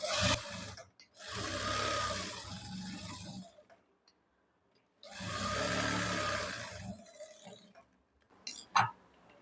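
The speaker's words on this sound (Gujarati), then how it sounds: "એ રીતે આપણે સિલાઈ લગાડી દઈશું" Sewing machine stitching tucks on a princess-cut blouse, running in two steady whirring bursts of a couple of seconds each with a quiet gap between, then a few short clicks.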